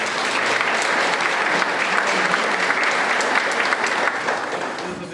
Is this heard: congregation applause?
yes